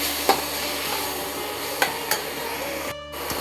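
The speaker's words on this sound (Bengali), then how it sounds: "এবার ধনে জিরে গুঁড়োটা দিয়ে মশলাটাকে আবার খানিকক্ষণ কষতে দেবো, ভালো করে নেড়ে নেব।" A spatula stirs and scrapes spice masala with cumin-coriander powder and potato in a pan for ghugni, making a few sharp taps and scrapes over a faint, continuous low sizzle.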